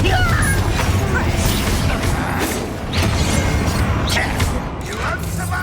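A Confringo blasting spell goes off in the Hogwarts Legacy video game, a loud crashing burst over dense, continuous combat noise with booming hits and clatter, while a voice speaks over the fray.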